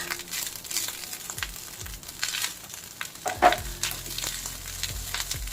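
Leftover rice sizzles and fries in a pan while a utensil stirs and scrapes it, giving a steady crackle broken by several clattering scrapes, close and moderately quiet, with no talking.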